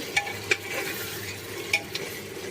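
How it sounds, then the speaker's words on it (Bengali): Potatoes cooking with goat meat in a pan give a low steady sizzle, broken by a few sharp scrapes and clinks of a stirring spoon against the pan, close by. "এখন আলুগুলো সহ কষিয়ে নিব।"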